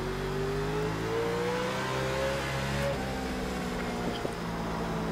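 A NASCAR race car engine in an iRacing sim race at Sonoma, a steady mid-pitched drone with gliding tones as the revs rise and shift, continuous and fairly close, with no talk.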